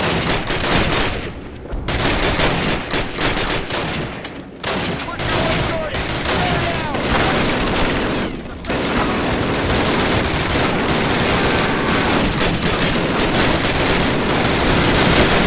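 Anti-aircraft guns in the Call of Duty video game fire in a loud, sustained barrage of rapid heavy gunfire with booming bursts and only a few short gaps, and a voice comes through now and then.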